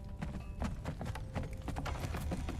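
Horse hooves clip-clop in Conan Exiles, a quick, steady run of soft thuds at moderate distance with no talking over them.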